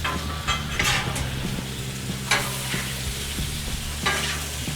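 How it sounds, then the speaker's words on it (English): Beef and vegetables stir-fry on a 36-inch Blackstone griddle, a steady close sizzle broken by several scraping stirs of the spatula against the flat-top, with no talking. "Give that a stir."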